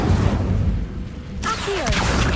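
An Incendio fire spell is cast in a Harry Potter video game, a loud rumbling whoosh with a deep boom that cuts off sharply, followed by brief magical swishes and chimes.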